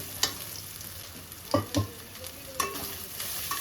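A pan of mutton sizzles steadily as it is sautéed, with a few sharp clinks and scrapes of a stirring spoon spaced out over the hiss, heard close and without any voices.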